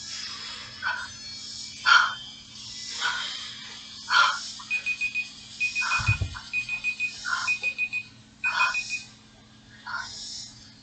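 A 3.5-minute workout timer alarm at a boot camp session sounds with repeated electronic beeping bursts, some in quick rapid trains, loud and close over a steady background hum.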